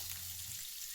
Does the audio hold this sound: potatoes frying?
yes